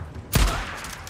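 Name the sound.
shotgun fire in Days Gone video game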